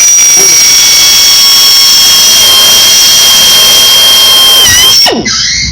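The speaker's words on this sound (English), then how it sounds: "I don't know if you can hear me over the air compressor now in the background" An air compressor runs loud and steady nearby in a boat workshop where soft deck injection repairs are underway, a continuous high whine with a constant hiss that winds down abruptly near the end.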